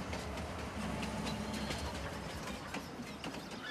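A train in Farming Simulator 19 rolls steadily, with a continuous mechanical clatter and rumble and rhythmic ratcheting clicks, loud and unbroken, with no talk.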